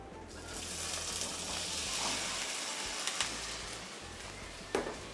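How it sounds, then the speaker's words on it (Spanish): Eggplant frying in oil in a wok: a steady, loud, broadband sizzle runs throughout, with a few soft clinks and stirring knocks near the end. "un poquito acá de aceite, siempre poniendo el aceite desde arriba en el wok. Entonces agregamos berenjenas."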